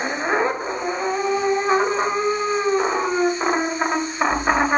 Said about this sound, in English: We're gonna go from like a low pitch all the way to high and then back, making a sirens noise